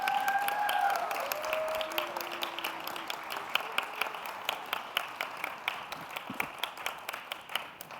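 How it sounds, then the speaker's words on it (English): Audience applause for the 2022 International Palliative Care Innovator of the Year award winner, a steady wash of many hands clapping that carries on for several seconds, with brief tonal sounds near the start. "another round of applause for all our innovators"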